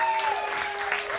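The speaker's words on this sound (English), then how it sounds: "And thanks for the applause." Brief applause from a jazz club audience at a quintet's set, a short wash of clapping with sustained instrumental tones ringing through it.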